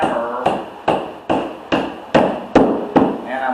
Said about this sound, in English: I'm taking a rubber hammer